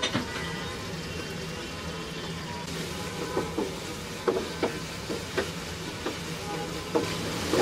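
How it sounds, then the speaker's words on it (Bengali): Chicken masala with chopped green chilies and tomato ketchup stir-fries in a pan, a constant sizzle broken by repeated scraping strokes of a spatula, close and fairly loud. "এখন এইটাকে একটু ভুনে নিব ভালো মতো"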